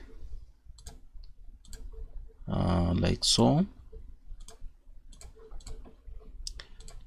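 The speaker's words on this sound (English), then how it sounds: "we press Ctrl I on the keyboard" Keyboard keys click in light, scattered taps at close range, with a brief burst of speech partway through.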